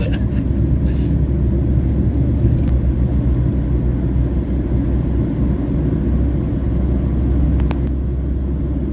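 A car cruises along a highway while overtaking a red MSRTC state transport bus, a steady loud rumble of road and engine noise that fills the whole stretch with no talking.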